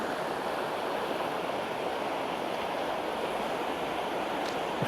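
Loud, steady rushing of a stream or river, with noisy water pouring continuously and unbroken, close by, with no voices.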